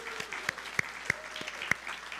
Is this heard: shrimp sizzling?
no